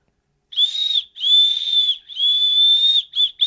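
An old, corroded fishtail whistle pulled from a dump is blown in three long, shrill, steady blasts followed by two short toots, loud and close with nothing else around it.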